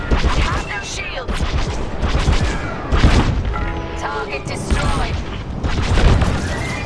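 Starfighter weapons fire in Star Wars Squadrons in rapid, rattling bursts, mixed with booms and explosions, while a voice talks over the gameplay.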